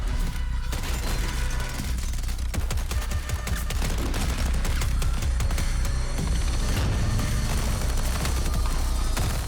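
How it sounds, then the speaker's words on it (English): A Battlefield 2042 sentry auto turret unleashes sustained rapid automatic fire amid booms and battlefield noise, dense and loud throughout with no talk. "He gets to place down this auto turret that will find targets and just start shooting them."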